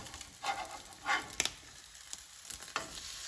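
Crab cakes sizzle in a hot pan with uneven heat, a soft steady crackle broken by brief louder spits and scrapes as they are moved.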